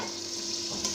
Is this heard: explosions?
no